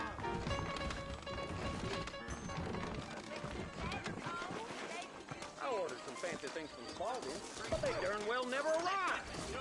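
Horse hooves clip-clop in Red Dead Redemption, steady and mid-distance, layered under game music and dialogue, with a brief whinny near the end.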